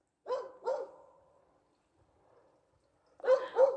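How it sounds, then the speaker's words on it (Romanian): An angry dog barks outdoors on a cold winter walk, two sharp barks, a pause, then two more barks at moderate distance. "un cățel supărat s-a trezit"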